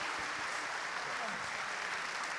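A crowd claps steadily in a dense, even patter of applause, with faint voices underneath.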